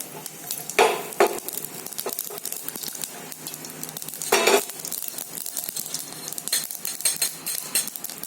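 Mustard seeds and cumin sizzling in hot oil for pundi chutney, a soft continuous crackle broken by a few louder popping bursts and light stirring clinks.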